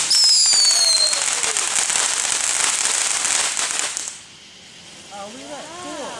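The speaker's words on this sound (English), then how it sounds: "Are you lighting fireworks?" Fireworks set off around midnight, a dense loud barrage of crackling bursts and whistling rising trails for several seconds before cutting off, followed by quieter whistles, with people talking nearby.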